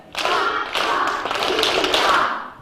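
First graders in an elementary school music class clap a rhythm together, a steady run of sharp, close group claps with slight unevenness between hands, filling the room without talking.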